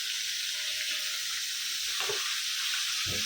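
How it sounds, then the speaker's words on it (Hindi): Bombay duck fish frying in hot oil, a steady bright sizzle throughout with a couple of soft clatters from turning or lifting the fish near the end, no talking. "बोम्बिल फ्राई हो गए, अभी इसको निकालेंगे।"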